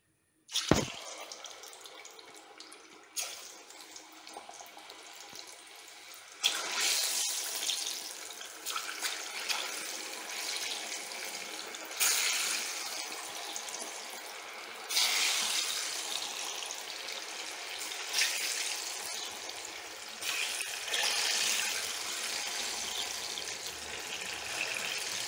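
Ripe banana pieces frying in a litre of hot palm oil give a steady broad sizzle that swells in repeated louder bursts over a constant hissing bed, with no voices.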